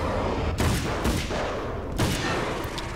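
Gunfire in the video game Alan Wake's American Nightmare: loud, close blasts repeating at roughly half-second to one-second intervals over a constant dense rumble of game noise.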